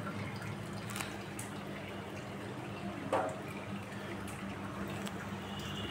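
Water drains and drips steadily from squeezed chhana made from pure cow's milk, a soft continuous trickle with a few louder splashy drops, close by and with no talk.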